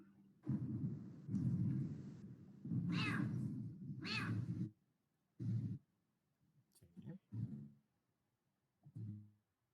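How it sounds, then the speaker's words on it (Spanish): Pet cat meowing insistently during an online Latin class: several long, drawn-out, wailing meows close to the microphone, then shorter broken calls and a few clicks, all fairly quiet. "El gato. Sí, lo siento, el gato mío."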